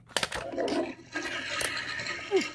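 A toilet flushes in a short burst of rushing water that swirls and fades, fairly close and without talk.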